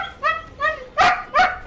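Dog barks from the game Dead by Daylight, four loud harmonic yelps in a steady rhythm, the last two harsher and stronger, close and alone with no talk.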